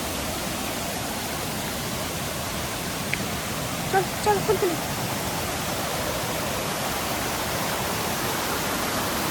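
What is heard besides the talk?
small waterfall by a bridge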